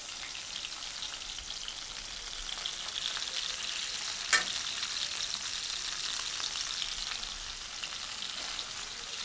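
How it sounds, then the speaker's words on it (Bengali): Hilsa fish frying in hot oil gives a steady, close sizzle with one sharp pop near the middle. No one speaks over it. "আমি ইলিশ মাছ ভাজছি আর বন্ধুদের সার্ভ করছি।"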